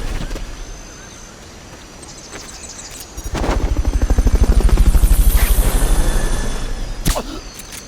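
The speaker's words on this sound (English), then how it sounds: "Fulton recovery helicopter is..." A Fulton recovery helicopter from the video game Metal Gear Solid: Peace Walker swells in, its rotor throbbing loudly for several seconds over a background of game ambience, then cuts out with a sharp burst.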